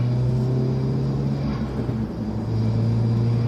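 A car engine blipping during a heel-toe downshift, a steady close low rumble inside the cabin with a slight dip and swell in revs, no talking.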